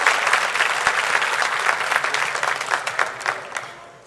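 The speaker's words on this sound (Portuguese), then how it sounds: "Aplaude o Senhor." A church congregation applauds together in a dense, continuous burst of clapping that thins and fades toward the end.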